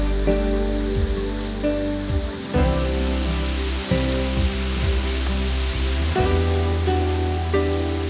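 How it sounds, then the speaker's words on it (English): The Great Fall, a 78-meter waterfall at Plitvice Lakes in Croatia, pours with a loud, constant roar of rushing water, heard close and unbroken with no voices. "One of the most famous park symbols is the Great Fall, a 78-meter high waterfall."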